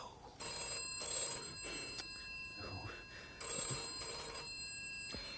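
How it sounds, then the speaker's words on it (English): An old-style telephone bell rings in repeated double bursts, fairly close and bright, with a voice speaking in the gap between rings. "it'll go on ringing until you answer it"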